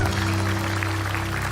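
Studio audience applause for Fakhri Shafly, an international grandmaster of memory, on a TV talk show: a steady, dense wash of clapping that holds for the whole moment over a low electrical hum.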